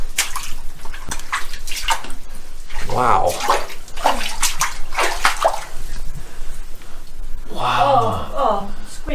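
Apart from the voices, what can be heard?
squelching mud between toes sound effect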